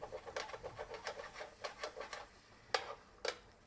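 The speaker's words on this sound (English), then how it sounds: "You scrape, because you don't want it to burn." Metal spatula scraping a pan of frying chicken pieces for jambalaya, a quick run of rhythmic scrapes over a soft sizzle, then two sharper, louder scrapes near the end.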